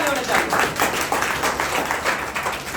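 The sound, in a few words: audience applause, clapping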